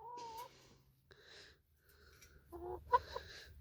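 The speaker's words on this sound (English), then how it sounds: "Chicken." Chickens clucking close by in a few short, uneven bursts with quiet gaps between, ending in a sharper squawk.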